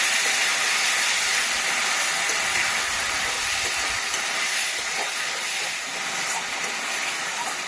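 Loud, steady hissing sizzle of spice masala frying in a pan for egg kofta, a continuous bright crackle that stays even with no voices over it.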